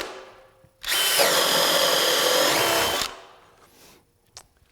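A cordless drill on a 5 amp-hour battery at speed setting 3 bores a 1.25-inch hole, a loud, close, steady whine for about two seconds before it spins down and stops.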